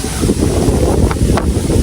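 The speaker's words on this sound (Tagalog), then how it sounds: "Malakas po ngayon ang hangin dito po Kalabal" Strong outdoor wind buffeting the microphone in a loud, continuous low rumble with a couple of brief gust flutters, in Kalabal under an overcast sky.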